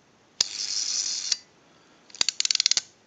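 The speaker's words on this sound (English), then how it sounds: "If you hear that sound effect, the ratcheting noise, the ratchet, that's working properly." Ratchet mechanism of an AE candlestick rotary dial telephone clicking as the dial is wound and released: a sustained whirring buzz, then a quick run of about ten sharp, evenly spaced clicks, close and clear with no talking.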